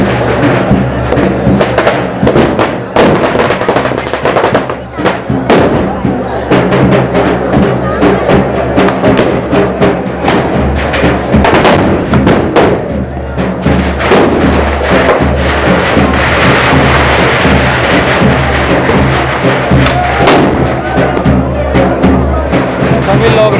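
Traditional gunpowder-loaded guns fire during Barood ki Holi in Menar, a dense run of loud, close bangs and thuds over a noisy festival crowd, with voices throughout.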